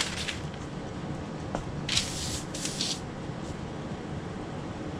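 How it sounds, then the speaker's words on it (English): Two short bursts of Loctite spray adhesive hiss onto a glitter tumbler, close by and one right after the other, over a steady low background hum. "I'll just spray it again with the Loctite"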